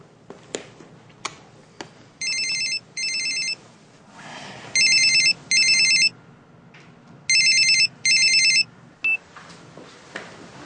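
A telephone ringtone sounds in an office, playing three pairs of electronic warbling bursts spaced a couple of seconds apart, loud and clear over a quiet room with a few soft knocks.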